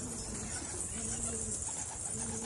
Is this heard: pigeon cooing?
yes